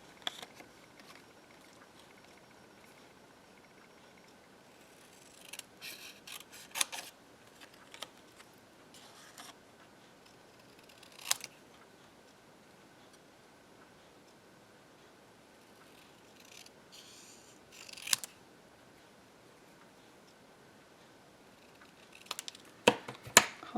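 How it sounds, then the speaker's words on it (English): Quiet, intermittent snips of scissors cutting paper, in short scattered bursts separated by near silence, with a couple of louder crisp cuts. "I'll grab my scissors and we'll cut this out"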